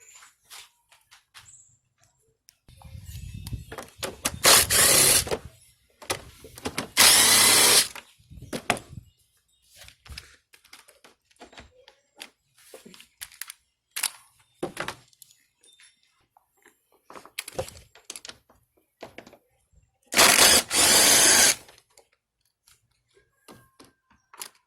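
Fasteners on the air filter housing of a 2005 Acura RL are removed with a Phillips screwdriver or 8 mm socket, with scattered close metallic clicks and ratcheting plus several louder bursts of rustling and handling noise.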